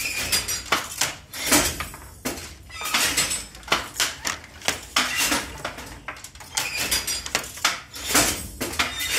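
A handloom in a Tangail weaving village keeps up a steady rhythm, its shuttle striking again and again with sharp wooden knocks and clacks at close range, with no voices over it.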